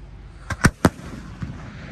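Fireworks shells fired during a thunderstorm: three sharp, fairly close bangs in quick succession, followed after a short gap by one fainter pop, all over quiet outdoor background.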